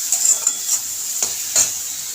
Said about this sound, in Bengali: আবার একটু জল দিয়ে দেবো, ওই 1 চামচ মতো দিয়ে আবার মশলাটাকে কষাবো।